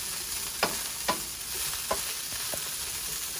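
Broccoli frying in a pan, a steady close sizzle with a few soft stirring scrapes and clicks at irregular intervals, no voices.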